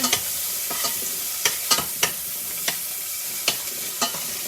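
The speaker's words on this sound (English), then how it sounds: "I'm adding some chopped garlic here, lots of garlic, of course, and I'm going to add the chopped ginger. I'm going to just mix it all together." Chopped garlic and ginger sizzle in a hot pan while a utensil stirs them, a steady frying hiss broken by sharp scrapes and taps against the pan at irregular intervals.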